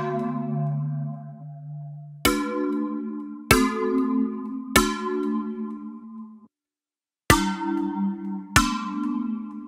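A synth pad built from sampled hits on a water bottle plays alone, a low sustained tone giving way to a series of struck, bell-like chords with sharp attacks and ringing decays, separated by a brief silence.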